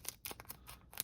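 Quick, sharp snips of scissors cutting through Pokémon card collection box packaging, several crisp cuts in a fast, uneven rhythm, close and clear.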